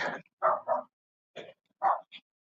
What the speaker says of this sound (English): Oh, look at the little dog. There's so many dogs.